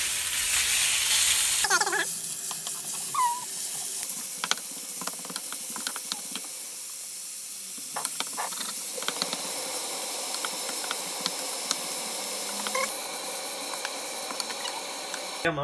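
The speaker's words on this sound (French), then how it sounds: "on va prendre la viande, hop, et on va tout simplement la pré-cuire et enlever aussi de l'eau." Meat pre-cooks in olive oil, making a steady hiss and sizzle with scattered clicks and utensil knocks that stay under a fairly even level, and a louder burst at the start.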